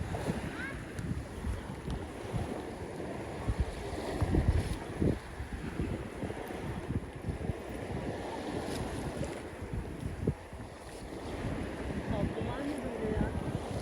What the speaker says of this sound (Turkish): Rüzgar hızla arkamızdan eserken